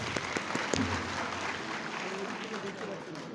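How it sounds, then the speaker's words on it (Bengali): Audience applause welcoming new students at an institute orientation, a steady wash of clapping from a crowd throughout, moderately loud with some voices mixed in. "সবাইকে জুড়ে একটু হাততালি দিচ্ছি সবাই সবাইকে হাততালি প্লিজ"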